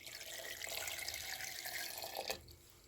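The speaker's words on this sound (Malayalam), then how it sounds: "പിന്നെ ഇതിൽ കുറച്ച് വെള്ളം ഒഴിച്ചു." Water poured into a cooking pot for a mango pulissery curry, a soft, close trickle and splash that runs steadily for a few seconds and is quiet overall.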